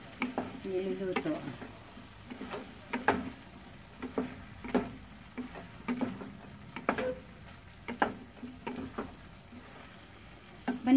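Squash, eggplant and spinach sautéing in a pan over a low flame, with a soft steady sizzle broken by sharp scraping clicks of a spatula stirring at irregular intervals throughout.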